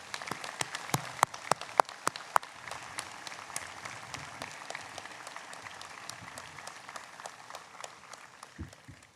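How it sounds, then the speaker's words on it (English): An audience at a high school graduation ceremony applauds steadily, a dense wash of many hands clapping, with a few sharper nearby claps early on and the applause thinning toward the end. "a round of applause."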